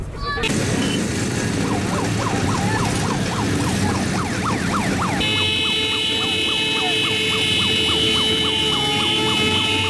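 Sirens and car horns sound together in tribute at W hour, commemorating the Warsaw Uprising insurgents. Loud wailing sirens rise and fall repeatedly, then give way to a sustained steady blare of horns and sirens.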